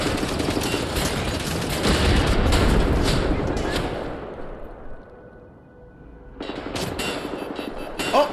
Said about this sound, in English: Oh, who's shooting at me? Oh, turret, I didn't see that.